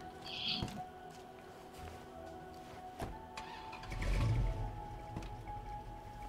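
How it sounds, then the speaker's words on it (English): A car engine in the video game State of Decay 2 starts and idles with a low steady hum, swelling briefly as it revs. "Car sure sounds good."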